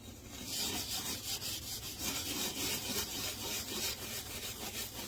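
Norwex Power Cleaning Paste is scrubbed over oven glass in brisk back-and-forth strokes, a close, gritty rasping rub that repeats steadily, with no voices over it.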